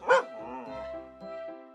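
A single dog gives one loud, sharp bark near the start, then a whining, whimpering tone carries on for the rest of the clip, close by.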